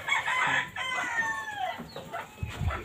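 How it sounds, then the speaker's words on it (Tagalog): Chickens cluck and a rooster crows repeatedly at close range, with a barnyard bustle of overlapping calls and no talking. "Pinakawala na yung mga manok."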